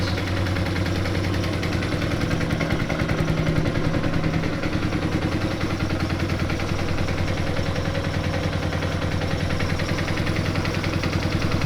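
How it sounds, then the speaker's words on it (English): A Yamaha Townmate motorcycle engine idles steadily close by, a continuous rapid chugging throb that holds even for the whole stretch. "It's idling."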